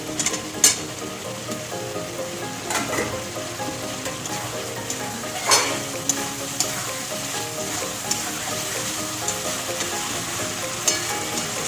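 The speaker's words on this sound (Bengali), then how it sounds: "এবার আমি ভেজে রাখা আলুটা দিয়ে দেবো।" Fried potatoes tossed into a thick cooked-down masala sizzle steadily in oil, with a few sharp clinks of a spatula scraping and stirring the pan at intervals.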